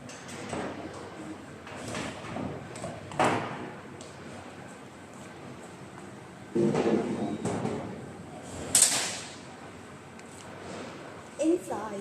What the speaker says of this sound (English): Let's open the door with the key.